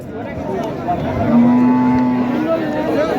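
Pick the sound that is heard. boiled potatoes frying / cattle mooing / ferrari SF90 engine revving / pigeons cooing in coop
cattle mooing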